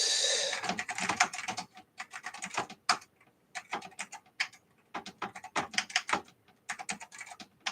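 Typing on the keyboard of a refurbished 386 DX 40 computer, irregular bursts of sharp, close key clicks separated by short pauses, fairly quiet and with no talk.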